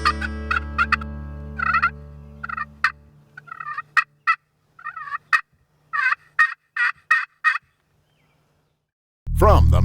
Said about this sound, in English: So hopefully something soon gobbles.